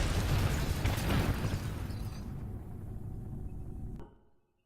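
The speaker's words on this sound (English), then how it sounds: "just watching it blow up on re-entry" A rocket blowing apart during atmospheric re-entry in a realistic space program video game, a loud, dense rumbling burst that holds for a few seconds, then fades and cuts off.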